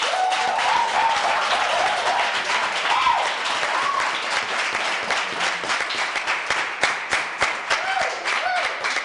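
An audience at a contest results announcement claps in steady, sustained applause that runs throughout, with a few sharper individual claps toward the end and a voice heard faintly at moments.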